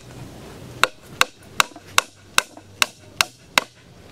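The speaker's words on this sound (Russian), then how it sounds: "попробовать сначала просто наживить гвоздик один" A small nail is driven into wood with a hammer, eight sharp, evenly spaced strikes landing close by at a steady rhythm, each blow crisp and ringing briefly with nothing else in the background.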